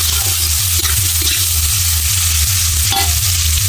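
Onions frying in hot oil in a kadai while being stirred for biryani, a loud, continuous close-up sizzle with a steady crackling hiss and a low hum underneath, no voices.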